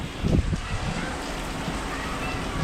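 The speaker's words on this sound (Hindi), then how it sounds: "इतना तेज़ बारिश हो रहा है कि ये पूरा छत पानी से भर गया।" Heavy rain pours onto a flat rooftop in Malir, Karachi, as a continuous loud hiss, with a few low thumps right at the start.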